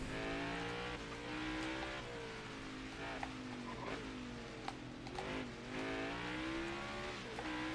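A race car in the video game NASCAR Heat '23 revs hard through repeated rising and falling engine sweeps as it brakes and accelerates through corners, loud and close, with no voices.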